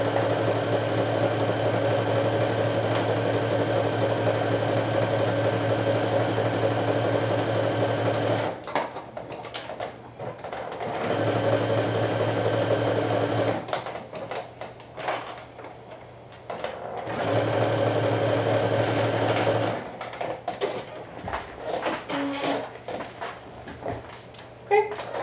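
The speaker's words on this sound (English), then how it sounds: "As you can see, it is stitched all the way around the arm opening." Sewing machine stitching the side seams of a knit garment, running in three long, steady stretches with brief pauses and handling noise between them.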